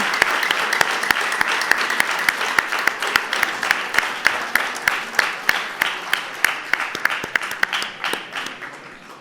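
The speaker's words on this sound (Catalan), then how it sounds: "Fort aplaudiment." Loud, sustained applause from a school gala audience honouring secondary-school award winners at a Catalan student clip-film festival, dense clapping with sharp individual claps poking through, holding steady for the whole stretch before easing slightly.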